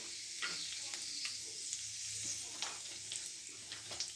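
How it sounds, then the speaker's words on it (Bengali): Cumin seeds and a bay leaf sizzle in hot oil for a Bengali chana dal, a steady hissing fry with small crackles and pops throughout, close and continuous, with no talk. "তেল গরম হয়ে গেছে জিরে ফোড়ন দিয়ে দিই জিরে ফোড়ন দিয়ে দিই তেজপাতা দিয়ে দিই"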